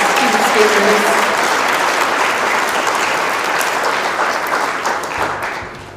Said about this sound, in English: Can I get another round of applause for our student speakers?